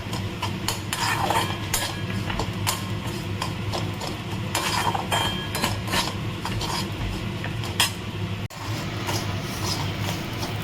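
Rice flour frying in ghee in a metal pan while a spoon stirs it steadily, a continuous close scraping and clinking against the pan with faint sizzle underneath, busy and uninterrupted with no voices.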